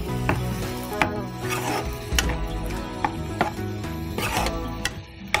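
A ground paste is stirred into Kumbakonam chicken kadappa in a pan. A spoon clicks and scrapes at a loose, repeated rhythm over a low simmering hum and a faint sizzle, close and without speech.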